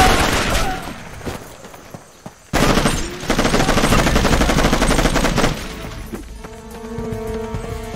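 Enemy gunfire in the PC shooter Raven Squad: dense, loud automatic bursts with a brief gap, then sustained heavy firing that eases into quieter ambience and tonal game sounds.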